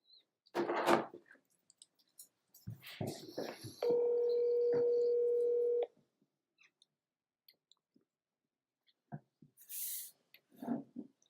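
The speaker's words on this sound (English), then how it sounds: "I'm gonna make a phone call real quick" A telephone call rings out as a single steady tone of about two seconds, close and clear, with a person talking briefly before and after it.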